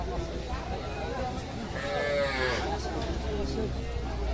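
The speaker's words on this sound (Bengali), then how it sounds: "মাছি গরু রয়েছে" A cow gives a brief, faint moo at a rural cattle market in Dinajpur, Bangladesh, half buried in crowd murmur and nearby talk.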